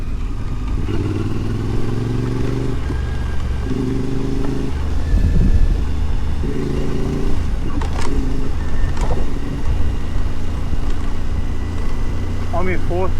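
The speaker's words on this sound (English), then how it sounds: "I'm in fourth gear, I'm just letting the engine do its work." An adventure motorbike engine in fourth gear rumbles low and steady while coasting downhill on gravel, with uneven throbbing pulses, wind noise and occasional clatter throughout.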